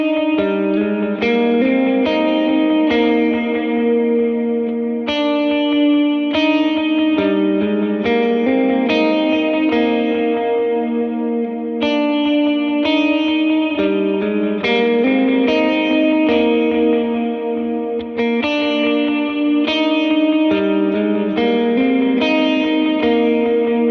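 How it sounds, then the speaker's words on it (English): Clean electric guitar notes ring out in a steady repeating pattern, washed in spacious reverb and echoing delays that blur into a shimmering cloud. "it's really just a cloud or an ambient reverb and a dual stereo delay"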